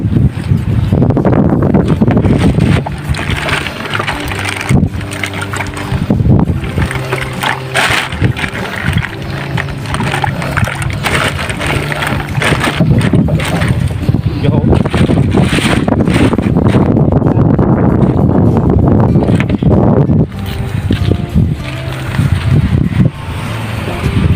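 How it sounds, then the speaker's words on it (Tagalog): A fishing boat engine chugs and sputters loudly nearby, its rumble uneven and faltering at moments, with wind buffeting the microphone. "Kaso papatay-patay kasi yung makina."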